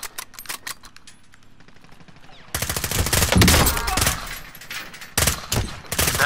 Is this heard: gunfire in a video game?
yes